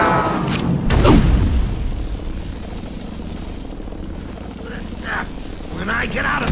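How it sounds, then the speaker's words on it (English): A helicopter rumbles steadily in Batman: Arkham Asylum, a close low drone with a heavy impact near the start, while voices speak over it. "Is that Jack Ryder's chopper I see?"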